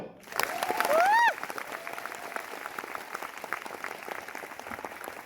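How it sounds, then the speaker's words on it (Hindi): An audience at a leadership development program in Delhi claps together in sustained, fairly loud applause, with a brief whistle-like sweep near the start and a crowd murmuring underneath. "पहले अपने हिस्से की ताली बजाओ"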